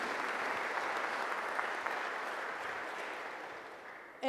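Applause from the audience at a roundtable on the Guelaguetza and Indigenous peoples, a steady, fairly soft wash of many hands for about four seconds, cut by a short voice at the end.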